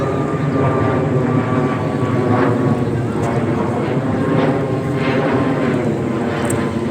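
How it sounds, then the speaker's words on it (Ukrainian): Wizz Air passenger jet roaring overhead near an airport in Pescara, Italy, a loud, steady, rumbling engine wash that fills the whole stretch outdoors. "Рекламна пауза на візейрівський літак."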